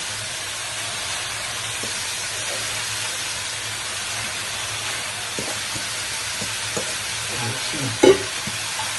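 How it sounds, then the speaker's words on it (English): Cabbage stirred into a pot for Jamaican-style steamed vegetables, giving a steady sizzling hiss with faint stirring clatter and one brief louder knock near the end, with no speech. "now we're gonna get the cabbage. Get the cabbage in there"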